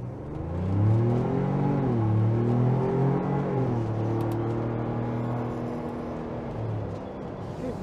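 A 2022 Ford Bronco Outer Banks accelerating from a stop, its engine note climbing through several gear changes in rising and falling sweeps, fairly close, then easing into a steadier cruising drone.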